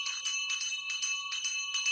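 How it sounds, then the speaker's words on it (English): A prize bell rung by a staff member to announce a first-prize win, heard as rapid bright metallic ringing in repeated bursts, fairly close and steady over the whole stretch. "The next moment, he started ringing the bell."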